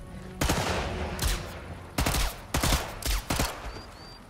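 Sniper rifle fire in Sniper Elite 5, a run of loud sharp reports spaced unevenly with booming tails, each shot close and dominant with no talk over it.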